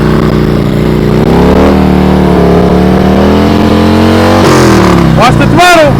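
Motorcycle engine idling and revving steadily during advanced slow-speed riding practice in North Carolina, a loud, close, continuous throttle drone that swells slightly, with a voice calling out near the end.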